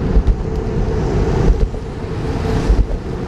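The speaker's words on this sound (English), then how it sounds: "Oh boy, it's windy." Wind rushes over the microphone of a cyclist riding on a commute, a steady low roar with gusty thumps that rise and fall, and faint traffic-like rumble behind it.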